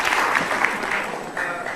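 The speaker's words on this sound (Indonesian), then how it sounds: "kita kasih tepuk tangan untuk gerakan lawan Ahok" Studio audience applauding on an Indonesian television talk show, a steady dense wash of clapping held for a couple of seconds at moderate loudness.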